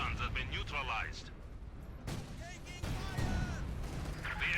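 An anti-tank grenade blast in a battle video game, heard as booming explosions and scattered gunfire rolling over a steady background of combat noise, partly under a voice talking.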